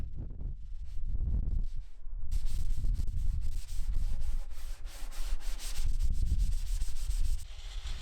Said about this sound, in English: I did a bit of hand sanding just to soften any sharp edges